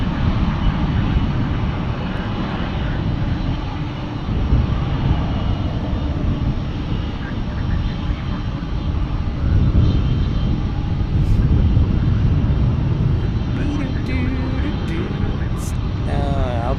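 An airliner roars past at Dallas Fort Worth International Airport, a loud, sustained, broadband engine rumble that swells and holds for the full stretch.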